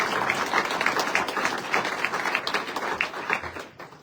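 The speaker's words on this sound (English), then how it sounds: "could you please give her a round of applause?" Audience applause at a county Lincoln Day political dinner, a steady wash of many hands clapping that gradually thins and fades.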